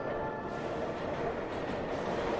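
A subway train rumbles through a Gotham subway tunnel, a continuous loud, close roar of wheels and carriages that holds steady throughout with no voices.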